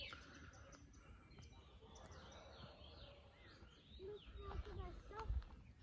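Faint birdsong with scattered chirps and trills in a quiet forest at Paratepe near Ordu, Turkey, low rumbling wind or handling noise underneath.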